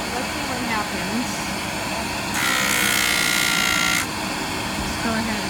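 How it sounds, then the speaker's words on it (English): JOOLTOOL felt polishing wheel spinning against dichroic glass bevels, a low motor whir with a loud hissy grinding burst of about two seconds mid-clip as the glass is pressed on, then easing back. "you can take the felt polishing wheel and see how you polish"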